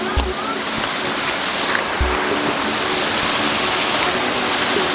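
A constant broadband rush of falling water from a waterfall on Brahmagiri mountain near Trimbakeshwar, close and loud, with a couple of low thumps near the start.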